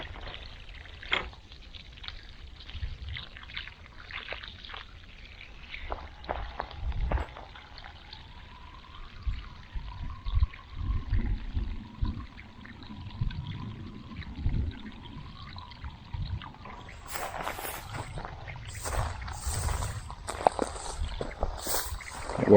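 Water pours and trickles steadily onto soft, peat-moss-mixed ground around new plants, with splashing bursts and a faint hum from a nearby engine.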